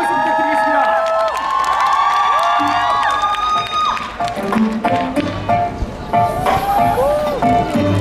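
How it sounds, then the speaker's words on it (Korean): A crowd cheers and claps for a mini concert of a musical in an outdoor setting, the applause and shouts mixed under loud music and singing that continue throughout. "여러분 큰 박수 부탁드리겠습니다."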